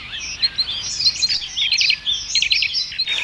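A dense, lively chorus of many birds chirping and tweeting at once, overlapping calls close by with no talking.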